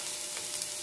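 Garlic sautéing in oil, a brief close hiss of frying with a faint soft stir or tick near the middle, steady and moderately quiet.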